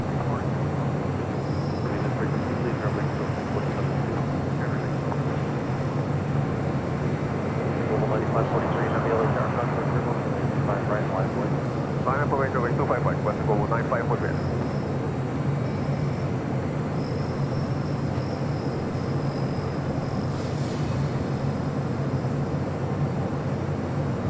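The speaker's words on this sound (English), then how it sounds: "Mexico Dreamliner now rolling down 25 right" An Aeromexico Boeing 787 Dreamliner rolls down runway 25 right at LAX on take-off for Mexico City, a heavy continuous jet roar with a low rumble that swells in the middle and holds loud to the end. A voice talks over it.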